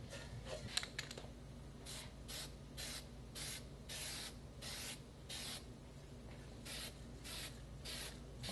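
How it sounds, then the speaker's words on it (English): A spray can hisses in a series of short, even bursts with brief pauses between them, fairly quiet and close. "I'll spray at one angle and then I'll switch to an opposite angle."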